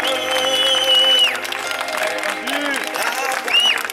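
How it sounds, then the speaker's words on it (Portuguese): An audience applauds and cheers for the guest of honor at an evangelical birthday celebration, a steady, fairly loud wash of clapping mixed with voices and tonal music throughout. "Uma salva de palmas para o nosso homenageado, galera."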